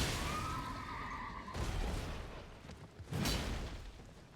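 A horse whinnies in a video game, a single drawn-out neigh at the start followed by softer snorting and movement, quiet and fairly close.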